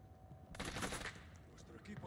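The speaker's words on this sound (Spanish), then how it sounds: "Yo he escuchado disparos" Gunfire in Call of Duty Warzone erupts in a sudden loud burst of rapid shots, followed by quieter scattered reports, heard alone without talk.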